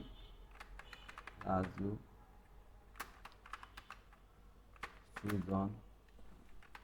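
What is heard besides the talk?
typing names on a computer keyboard in Word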